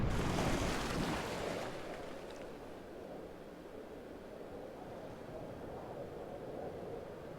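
Ambient ocean scene in Farming Simulator 22 as a boat heads out onto the water, with a steady wash of waves and wind, louder at the start then settling into a soft continuous hiss with no talk.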